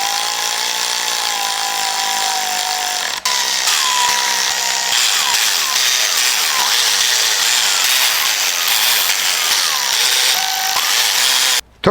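A power ratchet runs bolts down on a brand new Toyota engine being built, a loud, continuous whirring buzz with shifting pitch that holds steadily for about eleven seconds, with one brief dropout partway and a cut at the end.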